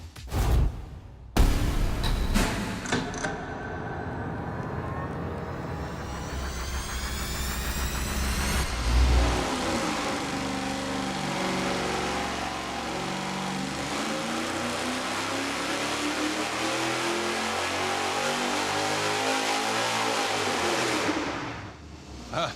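A boosted engine fitted with stepped 1 3/4 to 1 7/8 inch headers roars on a dyno, revving up in a long continuous sweep of rising pitch, loud and sustained until it cuts off near the end.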